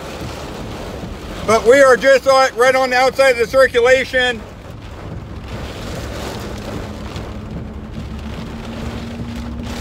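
Storm wind and rain roaring against the microphone during a tornado-warned storm near Fort Smith, Arkansas, a steady rushing wash throughout, with someone talking loudly over it for the first few seconds.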